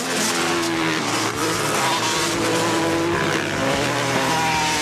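Racing motorcycles on an ice track at the Antigo CWIRA ice race, including a Kawasaki and a four-stroke Honda, roar steadily and loudly throughout, with engine drone and revving layered continuously and no pauses.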